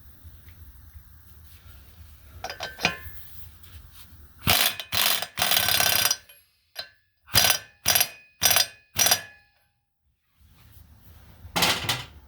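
A ratchet wrench torques a bolt on a 1972 Sea King Chrysler outboard motor: a series of sharp, close ratcheting bursts, some longer and several short evenly spaced strokes, separated by quiet pauses, with no talking.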